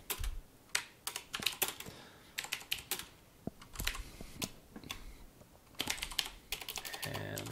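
Keystrokes on a computer keyboard while a NASM assembler command is entered in a terminal, heard as irregular bursts of sharp, close clicks with brief pauses between groups and no talking.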